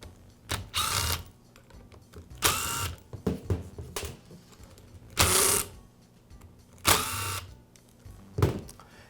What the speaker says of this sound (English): Now remove the screws that secure the gear housing to the motor assembly.